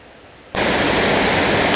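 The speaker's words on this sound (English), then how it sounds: "I see another waterfall there" A waterfall near a rocky trail around Rangeley, Maine, roaring as a loud, steady broadband rush that starts abruptly and holds constant.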